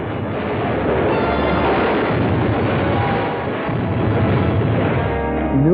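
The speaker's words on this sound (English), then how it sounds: "The continued wave of death-dealing explosions struck yesterday at Area Defense Headquarters." Explosions in an old film go off as a dense, continuous roar of booming blasts and rumble, loud and sustained, with no talking over them.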